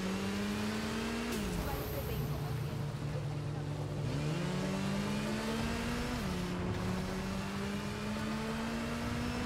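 Motorcycle engine in the Gotham Knights video game, revving and shifting through rising pitch sweeps that drop at each gear change, loud and continuous throughout with game sounds layered around it.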